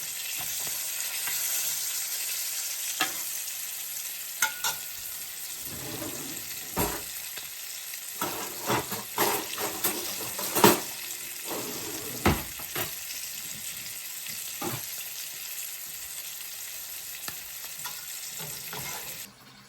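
Pieces of home canned chicken fry in a pan, a continuous close sizzle with intermittent scrapes and sharp clacks of a utensil turning them.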